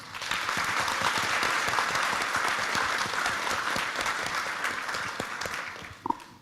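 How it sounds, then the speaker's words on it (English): An audience at a North Carolina A&T sit-in anniversary event applauds student panelists, with sustained, even clapping from a large crowd that tapers off toward the end, followed by a brief bump. "Please give them a round of applause."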